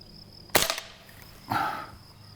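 Air rifle at a home shooting range, two sharp close cracks about a second apart, the second a duller thud as the pellet strikes wood.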